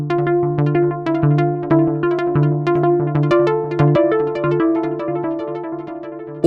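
A synth melody runs through an Empress Echosystem pedal with two delays in series, each note repeating into cascading echoes that stack over sustained tones, steady and clear with no voices.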